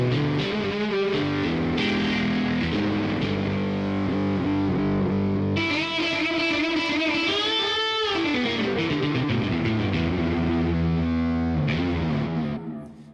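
Yamaha YC series keyboard plays a distorted, guitar-like lead with delay, with sustained bending notes, melodic runs and echoing repeats, loud and close with no voices.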